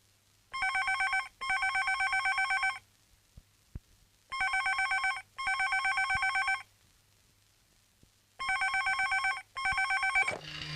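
A telephone bell rings in four paired bursts of trilling double rings, loud and close, with quiet gaps between each pair and no talking.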